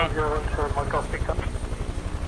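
A Huey helicopter in Microsoft Flight Simulator runs with a steady low rotor and engine drone throughout. A voice talks over it in the cockpit.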